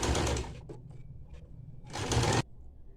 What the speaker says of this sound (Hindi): तो ऐसा करके इसके ऊपर चलाएंगे सिलाई।